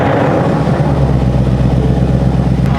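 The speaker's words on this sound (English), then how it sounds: "Yeah, that sounds like it's running pretty good." A car engine runs steadily at a smooth idle after a repair, with a close, loud, even throbbing hum that holds constant the whole time.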